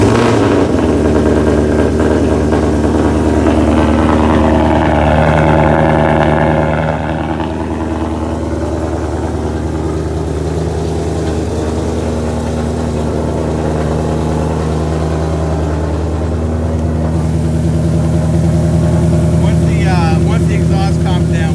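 A 2018 Mustang fitted with Texas Speed headers runs loud and steady at idle, a deep, rumbling exhaust drone holding throughout with a faint tick possible beneath, and voices talking over it.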